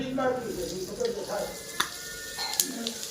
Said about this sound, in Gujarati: મસ્ત તેલ ગરમ થઈ ગયું હવે આપણે ગેસ બંધ કરી દઈએ નાખું આમાં નાખી દઈએ